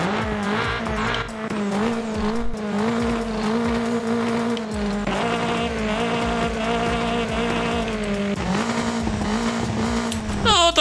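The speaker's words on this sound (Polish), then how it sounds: "Zobaczymy, co nam wydech zrobi." A Toyota Supra wide-body in the video game Forza Horizon 5 roars with a loud, sustained, tonal exhaust note and a hint of tire squeal, rising and dipping in pitch as it accelerates, with no talking.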